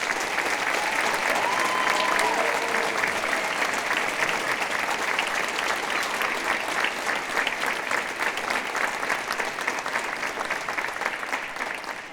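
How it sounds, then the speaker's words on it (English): Sustained applause from a large audience at a high school honor band concert, dense steady clapping that carries on for several seconds before tapering slightly at the end. "Can you give them a big round of applause?"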